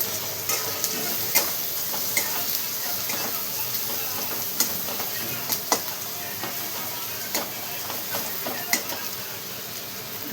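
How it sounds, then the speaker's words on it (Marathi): Bitter gourd chutney mixture with turmeric is stirred in a pan, a steady soft sizzle broken by scattered spoon scrapes and clicks, close and fairly quiet, with no talking. "सर्व टाकल्याच्या नंतर आपण पुन्हा मस्त असं मिक्स करून घेऊ"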